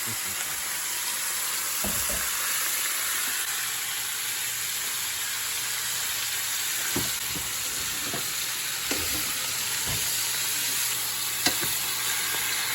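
Shrimp fry in a hot pan, giving a constant loud hiss of sizzling oil with a few soft clinks and stirs scattered throughout and quiet talk faintly underneath.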